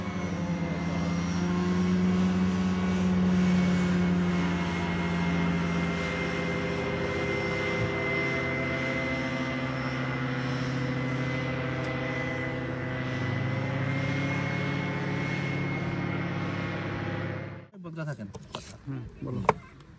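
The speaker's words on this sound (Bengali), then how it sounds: "ইঞ্জিনের প্যারাশুট।" A motorized parachute engine drones steadily overhead at a campsite in Slovenia, a continuous buzzing hum that holds for about seventeen seconds before cutting off abruptly into brief handling noises.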